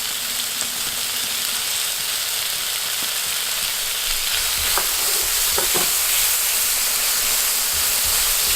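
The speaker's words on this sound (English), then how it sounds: "Saute this about a minute." Garlic, onion, tomato and green chili sauté in a pan as a vegetable filling for spiral curry puffs, giving a steady, even frying sizzle throughout with a few sharp clicks of stirring near the middle, no voices.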